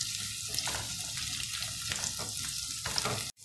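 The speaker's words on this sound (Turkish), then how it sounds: "18 tane arpacık soğanımızı soyup ekledim. Şimdi 1-2 dakikada bu şekilde kavuracağım." Around eighteen peeled shallots sizzle in a hot pan, a steady close frying hiss with small crackles and occasional stirring bumps, cutting off abruptly just before the end.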